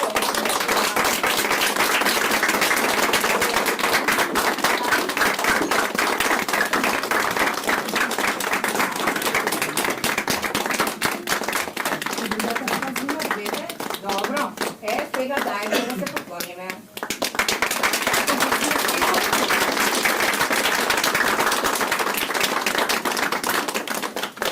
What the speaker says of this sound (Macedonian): да ги поздравиме со аплауз сите што учествуваат